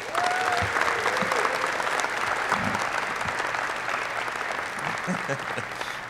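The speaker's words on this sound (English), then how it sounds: "Would everyone please give him a round of applause" Loud, dense audience applause at a U.S. Army Captain's Career Course graduation ceremony at Fort Novosel, a steady wash of many hands clapping that holds for about six seconds and eases slightly toward the end.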